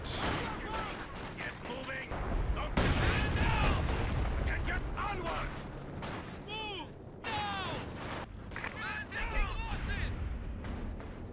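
Artillery shells and gunfire pound a base during a Company of Heroes 2 match, with repeated booms and crackling shots running steadily under in-game voices and chatter.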